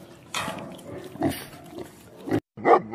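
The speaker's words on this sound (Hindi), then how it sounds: "pig P I ji pig pig मतलब सुअर" A pig grunting and oinking in a few short, rough bursts, close and fairly loud, with no voices over it.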